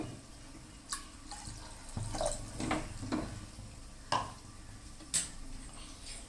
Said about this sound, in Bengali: ডালটা একটু ঘন হয়ে গেছে